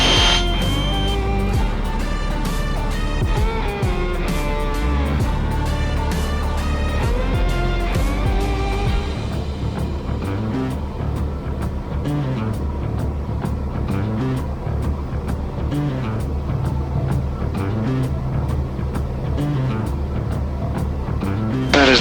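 A small aircraft makes a slow, labored takeoff and climb at Leadville, Colorado's high-altitude airport. A loud, steady engine drone fills the cabin throughout, and its rhythm shifts partway through the climb.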